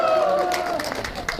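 Crowd applause at a Korean outdoor protest rally over the national medical crisis, a steady wash of clapping that holds for the whole short moment and thins slightly toward the end, with a held tone ringing faintly underneath at first.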